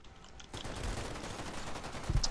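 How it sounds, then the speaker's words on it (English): Light machine gun firing in the Vietnam-era shooter Military Conflict: Vietnam, a dense sustained burst of gunfire close up with a heavier thump near the end, no talking. "let's not tap fire an LMG"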